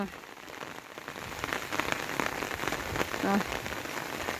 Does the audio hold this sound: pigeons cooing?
no